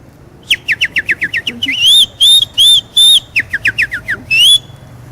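A person whistles an imitation of a burrión bird: quick descending chirps, then several sustained rising whistled notes, then more rapid chirps, loud and close.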